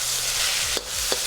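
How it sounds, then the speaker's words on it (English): Hokkien fried rice being stir fried in a wok, a steady broadband sizzle with two brief scraping clatters of the spatula against the metal, close and loud with no voices. "Stir fry to mix another 30 to 40 seconds."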